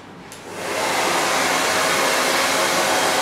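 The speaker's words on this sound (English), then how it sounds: "she's going to blow dry her hair gently" A hair dryer on its highest speed with warm heat blows steadily while relaxed hair is gently blow-dried, a loud continuous whoosh that swells in during the first half second and then holds unbroken.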